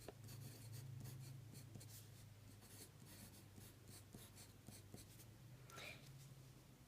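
A pencil scratches and scrapes across paper in quick bursts of strokes while words are written, close and clear, over a low steady hum.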